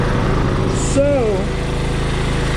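A small engine, freshly started after work with a wrench, runs at a steady idle close by, its even drone continuing throughout with a brief higher whine near the middle.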